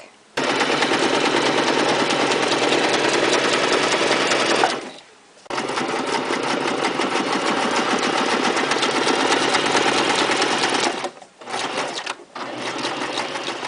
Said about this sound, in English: Then I took this to my sewing machine, and I stitched some zigzag lines down the left and the right side of the bag.